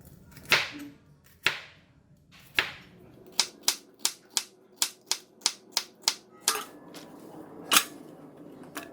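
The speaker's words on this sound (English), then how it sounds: "So I'm just cut it into just a nice bite size" A knife chops bitter gourd into bite-size pieces on a cutting board: a few spaced strokes, then a quick run of about a dozen crisp, evenly paced chops, close and clear with no talking.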